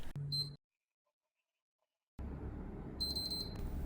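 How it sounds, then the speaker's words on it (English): A PlayStation 3 console with a yellow-light-of-death fault and error 3034 powers on and gives a short high beep, then falls silent before a quick run of three sharp electronic error beeps over a low hum. "The 3 beeps indicate that an error is successfully captured, and it's 3034."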